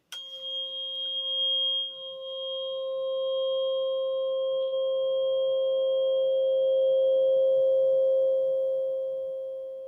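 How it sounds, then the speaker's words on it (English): A pure, steady ringing tone with a few clean harmonics, sustained for several seconds and slowly fading, with faint low rumble beneath. "Now, it's a tuning fork. It's a single sound."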